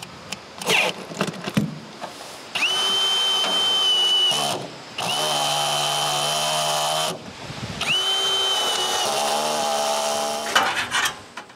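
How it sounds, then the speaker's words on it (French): A small cordless screwdriver drives screws through roof tiles on a firewood shelter behind a workshop: two long, steady whirring runs of a few seconds each, close and loud, with clicks and handling noise between. "Je suis même obligé d'utiliser une plus petite visseuse."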